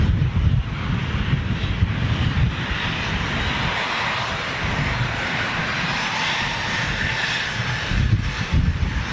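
Jet2 Holidays Boeing 737 with polished engine cowls roaring close by, a loud continuous broadband rush with wind buffeting the microphone, no voices.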